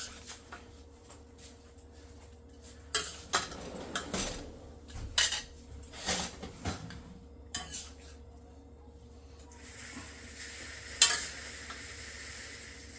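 A metal ladle scrapes and scoops sautéed ginisang upo with tomatoes and chicken out of a pan, giving a series of sharp clinks and scrapes over a faint sizzle, with no talk.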